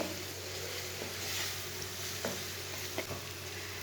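Chopped okra and chillies sizzle steadily in a hot pan while being stirred, with a few soft scraping knocks from the spoon over the constant frying hiss.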